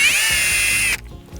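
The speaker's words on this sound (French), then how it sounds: "OK, je viens percer." A power drill whines close and loud for about a second as it bores a tap hole into a maple tree at a sugar shack, then cuts off abruptly and leaves quiet handling noise.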